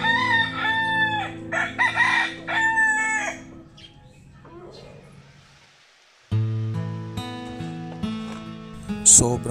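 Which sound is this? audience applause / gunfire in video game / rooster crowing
rooster crowing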